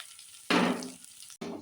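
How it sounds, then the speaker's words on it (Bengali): Onion and garlic hit hot oil in a pan with a sudden loud sizzle that starts abruptly, then gradually settles, with a brief break and a fresh burst at the end. "পেঁয়াজ রসুন ভালো করে ভেজে নিতে"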